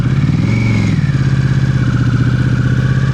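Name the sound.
motorcycle braking to a near standstill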